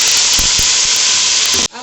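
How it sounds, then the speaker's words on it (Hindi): Ginger-garlic paste, cumin, tomato and green chilies fry in hot oil for a beef yakhni pulao, giving a loud, steady hiss and sizzle that runs unbroken for nearly two seconds, then cuts off abruptly. "अब हम इसके अंदर डाल देंगे अदरक लहसुन का पेस्ट, जीरा, टमाटर और ये हरी मिर्ची। ये डाल के इसको अच्छे से भूनेंगे हम।"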